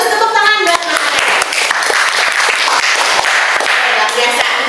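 A class gives applause for a student named Maharani, scattered hand claps with sharp individual slaps over a lively clapping bed, as a voice speaks in the background near the start.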